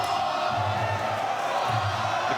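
A crowd at a live Muay Thai fight cheers and roars in a dense, continuous wash, with swelling shouts rising from the mass of voices.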